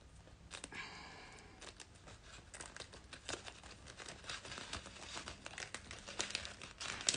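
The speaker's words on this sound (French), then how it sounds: "je continue à écheniller" Scissors pick and peel scraps of cut vinyl during weeding in a Silhouette crafting session, quiet close crinkling, tearing and tapping in irregular soft bursts, no voices.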